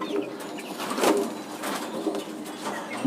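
Kept flying pigeons coo close by in a few low, throaty bursts spread across three seconds, with a faint rustle between calls.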